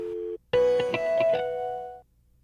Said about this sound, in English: You should hear the upstairs phone.